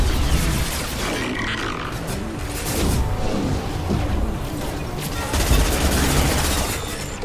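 Gunfire in a Mass Effect firefight: dense, continuous bursts of shots and booms pile up into a loud, chaotic barrage with heavy low-end thumps throughout.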